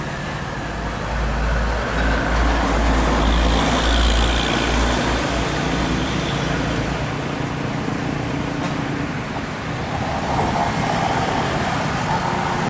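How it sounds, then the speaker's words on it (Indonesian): A Budiman intercity bus on the Tasik–Kalideres route passing by, its heavy diesel engine loud and rumbling close, then easing away amid steady roadway noise. "Ada bus Budiman dari arah Tasik Kalideres"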